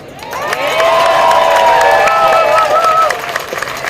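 A crowd at a San Diego Pride rally cheers loudly, with many overlapping shouts and whoops swelling for a few seconds before trailing off.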